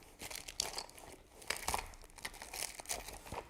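A kneaded eraser rubbing out a pencil drawing on paper, close soft scratchy scrubbing strokes in quick irregular bursts, no talking.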